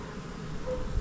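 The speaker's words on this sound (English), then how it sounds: "You see how many bees are in there?" Honey bees packed into a lifted beehive super during hive work give off a soft, continuous buzzing hum, fairly quiet and steady throughout, with no voices over it.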